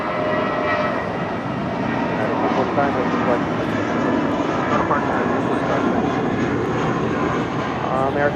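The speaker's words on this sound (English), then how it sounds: "This is United Airlines 245 departing to Vancouver on an A319." A United Airlines Airbus A319 departing Los Angeles International Airport, its steady broadband engine roar loud and sustained throughout, with a voice talking over it.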